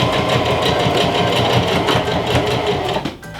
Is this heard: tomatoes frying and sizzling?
no